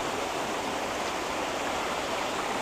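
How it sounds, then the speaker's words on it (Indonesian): The Cipunegara river in Subang, whose water feeds running-water carp ponds, gives a steady, dense rush of flowing water that holds at an even level throughout, with no voices. "ini adalah Sungai Cipunegara yang dipakai untuk budidaya"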